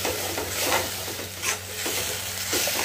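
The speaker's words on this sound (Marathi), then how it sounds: "परतून घ्यायचं आहे" Sautéing in hot oil in a pan for a yellow drumstick curry: a dense, continuous close sizzle with soft stirring swishes and small bursts, loud and steady throughout.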